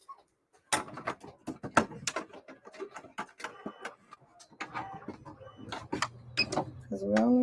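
A sewing machine stitches towels together in short mechanical bursts of rapid ticking and whirring, stopping and starting, close and moderately loud, with a few faint knocks between runs.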